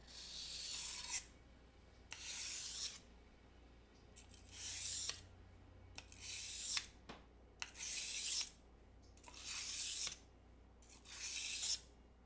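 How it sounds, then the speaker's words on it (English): A dull kitchen knife being sharpened, with six or seven rhythmic rasping strokes of steel against a sharpener, each about a second long with short pauses between, close and clear with no talk. "I'm just trying to sharpen my knife because it's so dull."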